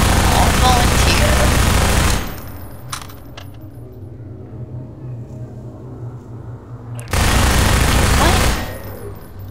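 Gunfire from the Half-Life 2 video game comes in two loud, dense bursts of rapid shots, one at the start and one near the end, separated by a quieter stretch in which a voice briefly speaks.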